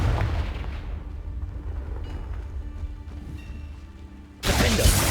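The Confringo spell from Hogwarts Legacy goes off as a deep, booming blast, with rumbling battle noise before it and a second loud, bright burst of impact at the end.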